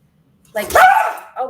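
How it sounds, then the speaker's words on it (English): A dog gives a short bark or yelp, close and fairly loud, mixed with a person speaking at the same moment. "sorry, that's my dog."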